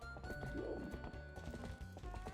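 Horse hooves clip-clop steadily in Twilight Princess, with game music and ambience layered beneath and a brief whinny-like call early on; no talking.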